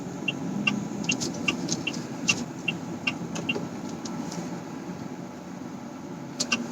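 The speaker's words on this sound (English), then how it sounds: "I am slotting the car into drive." A 2020 MG Hector DCT compact SUV moves off in drive, a low steady engine and road hum inside the cabin with faint clicking ticks over it, no talk.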